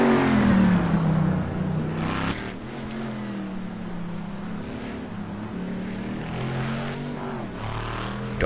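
In a racing video game, a race car's engine revs steadily as it rolls off pit road, a loud, continuous drone that dips slightly after the first couple of seconds.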